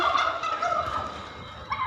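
Turkey gobbling close by, a rapid warbling gobble that trails off and then starts again briefly, loud and clear against a quiet farmyard.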